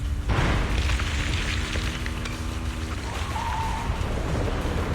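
A heavy impact rumble with ground shaking in the Zenless Zone Zero video game, a loud low boom that sets off a sustained, churning roar which slowly settles, with no talk over it.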